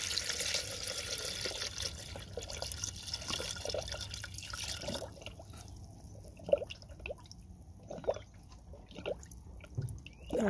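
Coolant pours through a fill funnel into the radiator of a 2008 Lexus RX350, a steady liquid trickle with scattered drips and gurgles that grow sparser and more distinct in the second half, with no talk.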